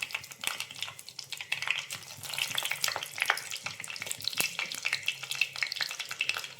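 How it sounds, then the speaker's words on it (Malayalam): Mustard seeds and red chillies sizzle and pop in hot oil, a dense crackle of sharp spitting pops over a steady frying hiss, close and continuous with no talk. "കടുക് പൊട്ടി വരുമ്പോൾ അതിലേക്ക് ഒരു 3 ചുവന്ന മുളക്"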